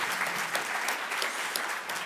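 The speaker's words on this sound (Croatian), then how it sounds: "Jedan veliki aplauz, da vas čujem." An audience at a panel discussion on digital evolution in insurance claps in a dense, sustained round of applause, even and continuous for about two seconds.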